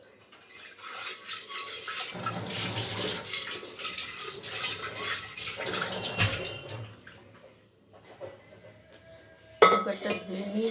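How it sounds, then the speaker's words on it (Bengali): A pressure cooker being rinsed with water in a home kitchen: running water and splashing with metallic clinks of the pot, steady for several seconds, then a brief lull and a sharper clatter near the end. "একটু কুকারটা আমি ধুয়ে নিই।"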